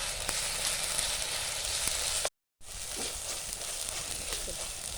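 Onions sizzling steadily in a pan as they fry to brown, a broad continuous hiss broken once by a brief silent gap, with a few faint stir clicks and no voice.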